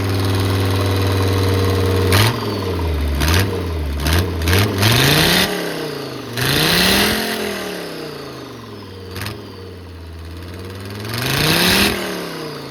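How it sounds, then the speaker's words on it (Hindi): A 1987 Mercedes-Benz engine fitted with a turbo cranks and starts, then revs repeatedly, loud and close, the pitch rising and falling in several sweeping bursts between rough idling. "गाड़ी का इंजन स्टार्ट हो गया"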